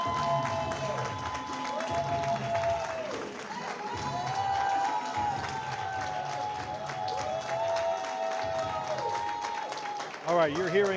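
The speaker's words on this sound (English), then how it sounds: "you're hearing the applause now at the campaign headquarters" Applause and crowd noise at a mayor's campaign watch party held at campaign headquarters, sustained clapping and cheering running under an amplified voice speaking over it.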